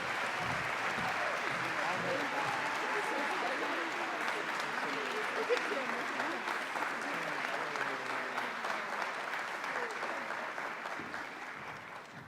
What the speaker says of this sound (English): you all give them a big round of applause.